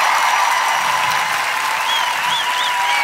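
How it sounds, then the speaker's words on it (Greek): Audience applause breaks out for a singer's mother at a live music performance, a steady, dense wash of clapping that holds at full strength for the whole stretch, with a faint held tone and a few cheers running over it. "ένα χειροκρότημα"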